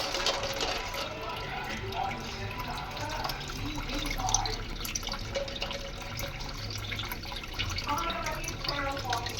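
Tap water pours steadily into a cooking pot being filled to cover balut eggs, a continuous splashing stream with small drips and gurgles, close by.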